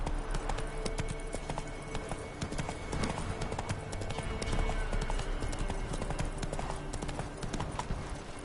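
Geralt's horse Roach from The Witcher 3 gallops in a rapid, continuous clip-clop of hooves. The beat stays steady and fairly close, with game ambience underneath and no talk.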